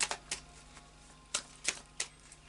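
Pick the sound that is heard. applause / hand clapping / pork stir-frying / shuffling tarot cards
shuffling tarot cards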